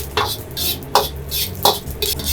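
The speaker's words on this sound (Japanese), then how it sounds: "弱火でじっくりと炒めていきます" Round dried chili peppers stir-fried slowly over low heat, with rhythmic scraping swishes of a utensil across the pan about every three-quarters of a second over a faint low hum, close and clear with no speech.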